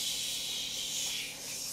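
A child-style voice imitates a spray hiss of rainbow water, a steady breathy hiss held for almost two seconds and then cut off sharply.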